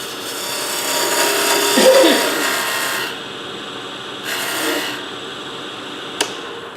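A wood lathe tool cuts a slight dovetail tenon for a chuck, close scraping and rasping swelling then stopping, with another short cut and a sharp click afterward.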